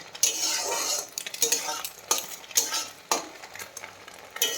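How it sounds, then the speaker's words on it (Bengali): Egg frying in a pan for chow mein, with a steady sizzle beneath repeated scraping and stirring strokes of a utensil against the metal, close and fairly loud, with no voices. "ডিমটাকে ভেজে নিচ্ছি"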